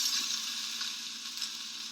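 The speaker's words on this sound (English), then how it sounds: "That could sound like a really, really hard downpour of rain." Steady, dense hiss of sizzling with a crackling texture, resembling a heavy downpour of rain, continuous and fairly close.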